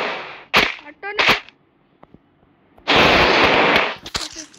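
Gunshots from the mobile battle game Free Fire, a few sharp close bursts separated by quiet gaps, then a dense loud stretch of firing near the end.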